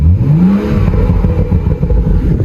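Stock exhaust of a BMW F22 M235i being revved: a loud, close, deep engine note that rises in pitch, then burbles and rumbles steadily, with no talking.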